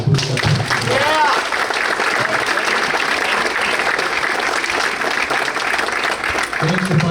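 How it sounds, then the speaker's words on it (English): Loud, sustained applause fills a banquet hall at a boys' lacrosse team dinner, many hands clapping steadily with voices and cheering mixed in throughout. "So let's give the parents a big round of applause."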